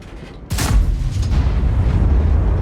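An FV215b tank cannon fires in a tank video game with one loud, sharp boom, followed by a heavy rumbling decay over a low engine drone.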